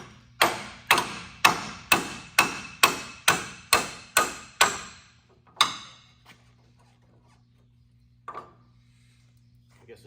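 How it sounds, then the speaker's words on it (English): A bigger hammer pounds on the front-end parts of a 2006 Dodge Ram diesel truck, giving roughly ten loud, rapid metallic blows in a steady beat, then one last strike and a couple of faint knocks. "bigger hammer is better, huh?"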